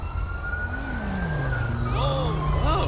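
An emergency vehicle siren wails through the city in the GTA 5 video game, a loud rising and falling tone that stays close and continuous, with rapid yelp-like sweeps starting near the end.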